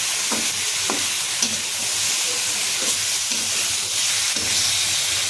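Potato and tomato curry fries in a pan, giving a loud, even hiss of sizzling with a few soft clinks and taps of a utensil scattered through.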